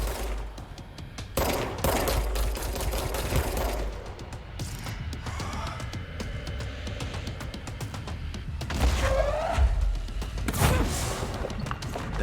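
Rapid gunfire in the video game Control, a continuous fusillade of close shots mixed with mechanical clanks and whooshing effects, loud and sustained throughout with no talk over it.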